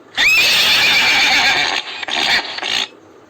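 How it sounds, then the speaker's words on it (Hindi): A horse gives a single loud, close whinny that rises sharply and then shakes and trembles for about two and a half seconds before cutting off. "घोड़ा हिनहिनाता है बच्चों, तो उसे कहेंगे घोड़े की हिनहिनाहट।"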